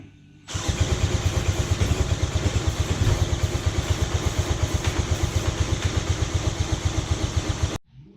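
A 1956 Johnson 30 hp outboard motor with a homemade electric start bursts into life. It runs loud and close with a rapid, even firing pulse for about seven seconds, then cuts off abruptly into quiet.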